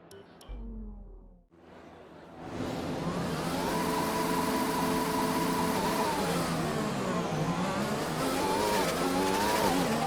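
Formula 1 race car engine in the F1 2020 game, a brief low idle and dip then a loud sustained high-revving whine with rising and falling gear pitch, continuous and close.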